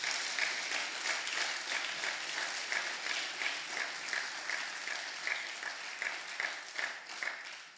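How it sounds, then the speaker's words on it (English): An audience at a celebration evening gives sustained, loud applause for mothers, a dense steady clapping that lasts throughout. "I ask you to give mothers another round of applause, please. And make it loud and strong."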